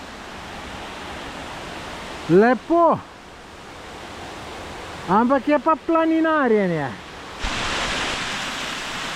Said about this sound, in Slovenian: vse skup je en slap